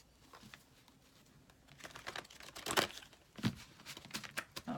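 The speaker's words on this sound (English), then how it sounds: "That was a good shuffle." Tarot cards riffled and shuffled by hand for a Gemini reading, a quiet run of crisp papery flicks and snaps building to a few louder bursts, close and alone with no talking.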